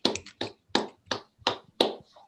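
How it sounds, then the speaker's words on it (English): Snaps and claps from an online open mic audience, about six sharp separate hits in an uneven rhythm with short silent gaps, close and fairly quiet. "Snap it up, clap it."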